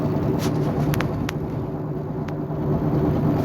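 A car drives along with a steady low road rumble and engine hum filling the background, plus a few brief faint clicks over the top.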